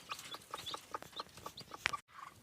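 A hen clucks in a rapid series of short, evenly spaced calls, with a louder squawk near the end before the sound cuts off briefly.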